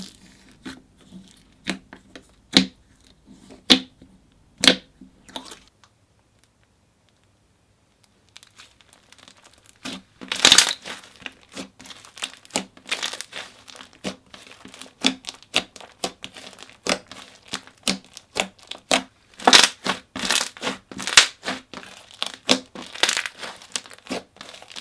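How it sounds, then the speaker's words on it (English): Blueberry pancake scented slime being squished and pressed, giving a quick series of close, crisp bubble pops and crackles, with a short quiet pause before the popping resumes more densely. "I remember how great the bubble pops were"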